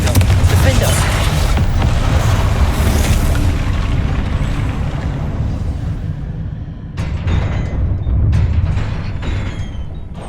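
Deep booming blasts from an explosion spell in Hogwarts Legacy go off amid loud combat effects. A few sharper bursts stand out toward the end as the rumble fades.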